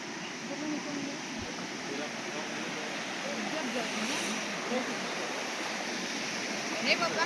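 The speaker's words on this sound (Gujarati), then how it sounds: "ઝરણું પણ વહી રહ્યું છે." A forest stream runs with a steady, broad wash of flowing water, constant and moderately near, with no clear talk over it.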